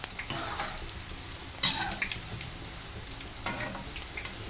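Boondi batter dropping into hot oil for laddus, a steady crackling sizzle of deep frying with occasional sharper splashes and faint stirring, close and continuous with no talk.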